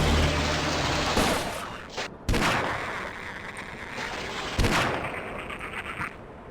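Sniper weapon fire in the video game Half-Life comes as loud, noisy, continuous bursts of gunfire. Two sharp cracks stand out partway through, with rattling in between.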